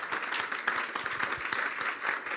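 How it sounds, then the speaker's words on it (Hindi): A church congregation applauds during a Good Friday service, steady dense clapping from many hands filling the space at moderate loudness, with no voice over it. "ज़ोरदार तालियां बजाएंगे एक बार फिर।"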